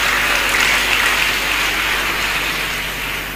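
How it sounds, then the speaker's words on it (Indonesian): An audience claps in a dense, loud burst of sustained applause that holds steady and fades slightly at the end. "Tepuk tangan untuk beliau."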